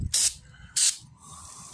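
Two short, loud bursts from an aerosol spray can laying light coats on a fiberglass dash repair in a Chevy Silverado, each hiss about a quarter second, followed by quiet.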